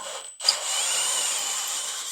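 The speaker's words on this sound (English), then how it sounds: "we're drilling it out with a 13/32 drill bit" A 13/32 drill bit bores holes while a Blue Ox base plate kit is installed on a 2016 Jeep, giving a steady, close, continuous drilling whine after a brief pause and sharp click near the start.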